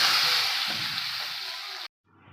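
Dried red chillies and asafoetida frying in hot oil as a tempering for methi dal, a loud, close, steady sizzle that cuts off abruptly, then resumes faintly.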